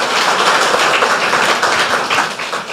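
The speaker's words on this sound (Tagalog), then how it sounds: "Malakas sa palakpak para kay Lord." Loud, dense applause from a church congregation clapping for the Lord, a steady wash of many hands close by that lasts the whole time.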